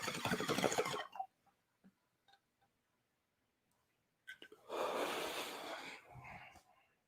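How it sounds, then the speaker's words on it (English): Coughing and wheezy breathing after a hit from a heady old school glass bong packed with Chem Blue, a harsh burst at the start, faint sputters and gasps, then a longer rough coughing fit near the mic. "See that cough? That's a healthy cough."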